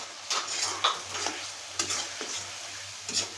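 Prawns frying in a pan as spice paste is stirred in, giving a close, steady sizzle broken by several sharp scraping stirs of a spoon against the pan, with no talking.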